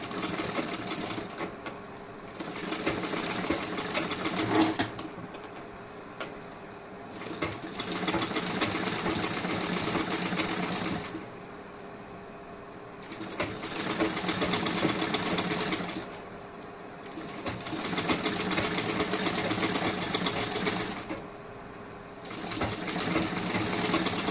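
A sewing machine stitches a seam on a garment sleeve in several bursts of steady, loud mechanical running, each a few seconds long and separated by brief pauses.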